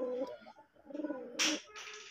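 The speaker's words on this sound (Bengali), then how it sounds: "নটটা বোম্বাই খোপা, দেখেন ডাকাডাকি করতেছে" Male Bombay crested pigeon cooing, with low throaty coos repeated in a few close phrases, then a short wing-flap or rustle burst near the end.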